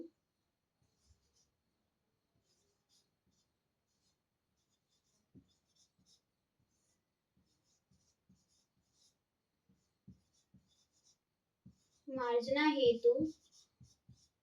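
Writing on a board during a music theory lesson: sparse, faint taps and strokes spread over a quiet room, with a short burst of a person speaking near the end.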